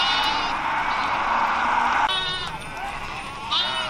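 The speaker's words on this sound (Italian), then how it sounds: "ci godiamo così il transito, il pascolo di tutte queste pecore" A grazing flock of sheep bleats in overlapping, wavering calls, several voices near and farther off, over a low rumbling background as the animals pass.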